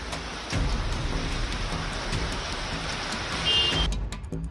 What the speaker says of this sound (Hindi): मुंबई में सुबह से ही हल्की बरसात।